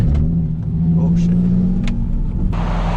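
A tuned, turbocharged Nissan 370Z Nismo with a twin-disc clutch pulling hard from inside the cabin, a loud, steady engine roar with a brief shift in tone near the end.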